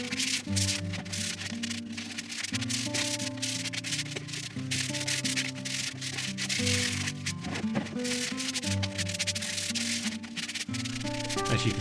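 Hand sanding a painted wooden stick chair between coats, continuous close rhythmic rubbing strokes of abrasive on wood, with steady background music throughout.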